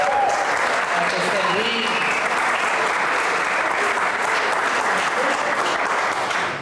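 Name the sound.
audience applause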